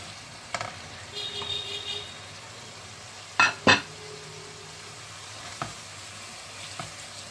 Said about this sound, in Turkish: Birkaç dakikada salça rengini verinceye kadar kavuralım.